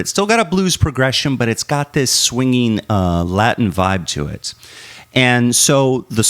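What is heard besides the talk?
No everyday noise stands out behind the speech.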